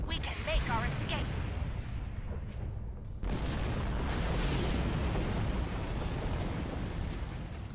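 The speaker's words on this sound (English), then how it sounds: "Warning. Artillery incoming. Exit area immediately." Artillery explosions boom in a Star Trek Online space battle, a dense continuous rumble of blasts with a sharp surge partway through, under a spoken warning voice.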